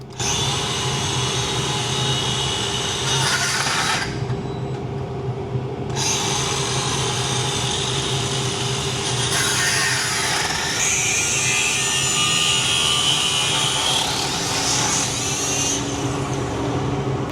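An angle grinder cuts through a motorcycle lock, giving a loud, continuous grinding whine that holds steady for the whole stretch, its pitch and bite shifting as the disc works into the metal. No one speaks.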